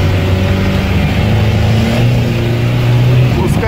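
A UAZ off-road vehicle engine revving high in first gear, a loud continuous mid-pitched drone with steady harmonic tones, heard close up with a voice talking over it.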